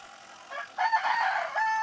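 A rooster crows loudly and close in a backyard chicken coop, the drawn-out call following a few short clucks from hens, with no talking.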